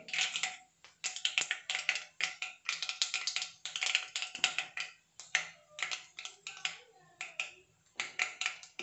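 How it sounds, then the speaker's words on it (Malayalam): Mustard seeds crackle and pop in hot oil before beetroot goes in, a dense run of sharp, quick snaps in bursts, close and fairly quiet. "കടുക് പൊട്ടി."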